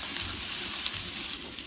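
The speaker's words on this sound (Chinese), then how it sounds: "接下来炒个蒜蓉酱，放入蒜末" Minced garlic sizzling in hot oil in a pan for a garlic sauce, a steady close crackling hiss that runs evenly without pause.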